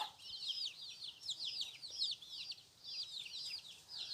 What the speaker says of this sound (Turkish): Civcivler ufak diye götürmemiştim.